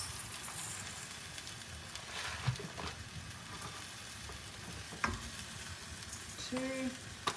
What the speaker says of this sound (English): And what we do is we cook that rice like this until it changes colour and turns opaque.